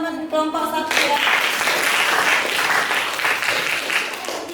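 Classroom applause from a group of students, a burst of dense clapping that starts after a short spoken cue and carries on steadily for several seconds.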